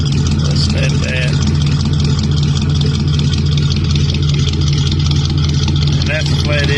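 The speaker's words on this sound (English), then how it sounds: "And that's the Flathead V8 right there." A 1951 Mercury sedan's Flathead V8 idles steadily with a deep, rumbling exhaust note, loud and close, holding an even low throb throughout.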